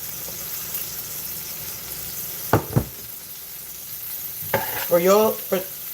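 Kale hits a hot pan with fresh garlic and mushroom, giving a steady low sizzle throughout, broken by a few sharp clatters of a spoon stirring and scraping near the end.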